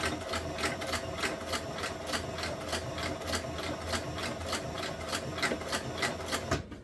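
A sewing machine stitches an exotic inlay leather knife sheath, its needle pounding in a fast, even rhythm for several seconds before stopping abruptly near the end.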